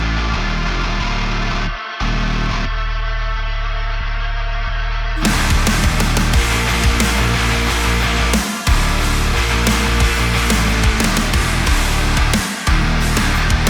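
Dense, loud modern metalcore mix with heavy distorted guitars and drums, thickened by an octave-shifted sub bass layer from the Arcade plugin, with brief dropouts and a sparser filtered passage before the full band returns.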